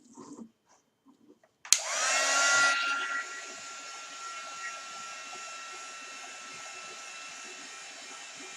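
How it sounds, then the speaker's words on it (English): After a few faint sounds, a handheld hair dryer switches on with a click and blows a steady close whoosh over wet paint on a canvas, loud at first and then settling lower. "with my dryer."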